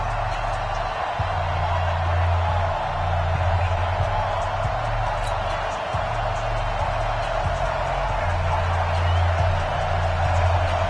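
A home crowd at a Miami Dolphins vs Baltimore Ravens football game makes a steady, broad roar that fills the stadium throughout, while a commentator talks over it.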